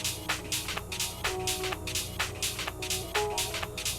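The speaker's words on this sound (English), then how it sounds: "Just throw the reverb on now." Drum loop with beats and a melodic part, processed through an Eventide Ultra Reverb plugin, giving rhythmic hits a washed, spacious tail, moderately loud with no voices.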